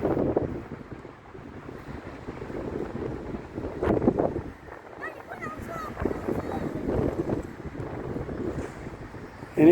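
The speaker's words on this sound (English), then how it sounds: "And it's cold and it's windy." Gusty, cold wind buffets and rumbles against the microphone in uneven bursts at Dunedin Railway Station Gardens, New Zealand, with faint background sounds underneath.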